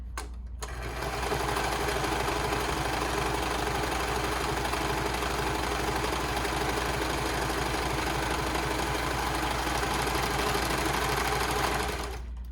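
A serger stitching a garment seam runs continuously at steady speed, a loud, even mechanical whir and rattle close to the microphone that starts abruptly and stops near the end.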